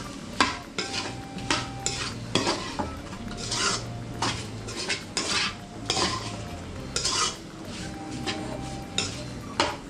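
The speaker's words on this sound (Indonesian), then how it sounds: "kemudian saya aduk hingga antara bumbu dengan daging babi" Pork pieces tossed with spice paste for Balinese babi kecap, stirred in a pan with steady scraping and clanking of a utensil against metal, repeated rhythmic strokes over a faint sizzle, close and moderately loud.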